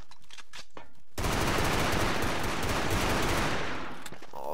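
Automatic weapon fire in the video game Brick Force, a sustained rapid burst starting abruptly after a second of brief clicks and lasting to the end, loud and steady.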